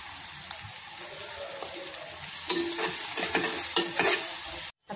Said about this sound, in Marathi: आता आपला छान असा कांदाही परतलाय